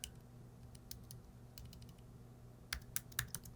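Code is typed on a computer keyboard in short bursts of quiet clicking keystrokes, a few scattered taps early and then a quicker cluster near the end, against a faint background hum with no voices.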